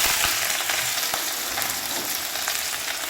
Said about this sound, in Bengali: দেখো আমি কিন্তু পেঁয়াজ ভাজছি, একটু পেঁয়াজটা ভেজে নিচ্ছি